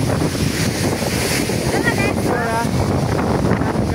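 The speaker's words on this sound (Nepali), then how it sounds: "हावाले कस्तो बनाइरहेछ के" Strong wind at a beach, blasting the microphone in a loud steady rush mixed with the wash of waves, with a voice speaking briefly underneath.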